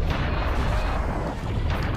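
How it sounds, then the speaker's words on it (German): Heavy cannon blasts from the Serious Sam video game form a loud, dense barrage of booming shots that fills the stretch without pause. "Nicht von der eigenen Kanonen treffen lassen."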